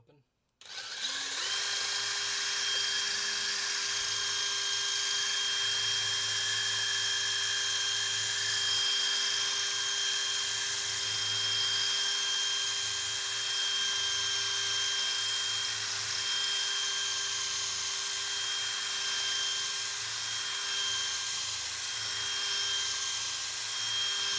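A steady, high whining drill runs continuously while boring out an Ushin Showa lock, holding a constant pitch for the whole stretch, loud and close with no pauses.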